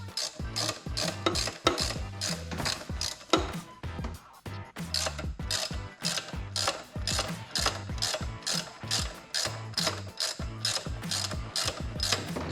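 A ratchet clicks rapidly and repeatedly in steady bursts while a long bolt is unscrewed from a 5.7 Hemi engine during a teardown, close and mechanical, without talk.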